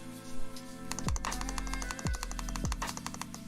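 Fingers type on a prototype keyboard fitted with Holy Panda switches, producing quick irregular clacky keystrokes up close, with faint music running underneath.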